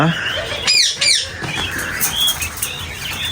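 White running quail in a large cage give bright chirps and squawks with a burst of wing flapping, close by, over low background noise.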